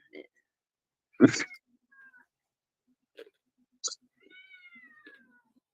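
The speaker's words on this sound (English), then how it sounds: "All I can hear is cats." A cat meows in a handful of separate calls: one loud, close cry followed by a few shorter, fainter mews and a drawn-out whine with gaps of quiet between them.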